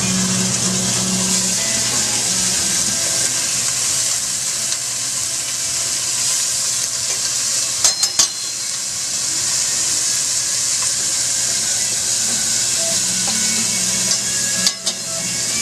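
Cube steak dropped into a hot pan for chili con carne sizzles and fries with a loud, steady crackling hiss, broken by a few sharp clanks of metal.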